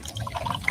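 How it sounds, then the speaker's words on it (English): Coke Zero Sugar pours and fizzes in a short, close burst of splashing liquid and crackling bubbles. "Fizzy deliciousness. Listen to that cascading liquid."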